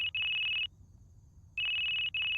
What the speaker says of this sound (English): What? There's a phone?